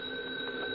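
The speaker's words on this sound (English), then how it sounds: "Your phone keeps yapping all the time." A telephone rings in a bar, giving a short, steady electronic tone on its own, fairly quiet, with no talking over it.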